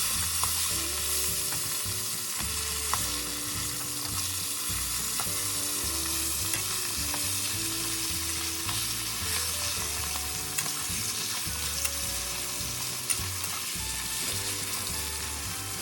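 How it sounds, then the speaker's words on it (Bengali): A hilsa fish head fries in a wok with a loud, continuous sizzle while a spatula repeatedly scrapes and breaks it apart in a steady rhythm. No voices. "একটা খুন্তি দিয়ে মাছের মাথাটাকে কড়াইয়ের ভেতরে ছোট ছোট টুকরো করে ভেঙে নিতে হবে"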